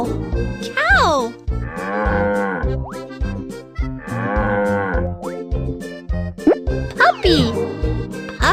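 Cartoonish cow moos sound twice in a Baby Bus children's game amid bouncy game music, boing and plop effects, with a voice speaking.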